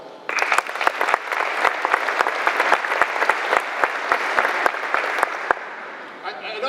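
Loud, sustained applause from a crowd at a military airlift wing change-of-command ceremony, dense clapping with a few sharper individual claps standing out, tapering off near the end.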